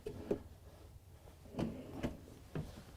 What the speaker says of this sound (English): we have 5 of the pull-out drawers, and these are actually pretty deep